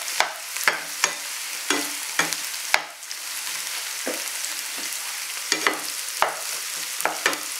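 Onion, garlic and parsley cook in a hot pan with a steady, soft sizzle, broken by sharp spoon clicks and stirring scrapes at irregular intervals.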